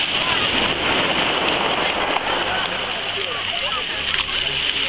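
Atlantic Ocean waves along the coast at Étretat, a loud, continuous rushing wash of surf and spray that holds steady throughout with no pause.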